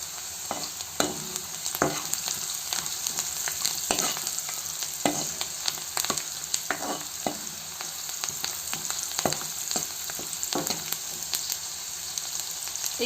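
Onions fry with turmeric in hot oil, giving a steady close-up sizzle broken by regular spoon scrapes and taps against the pan.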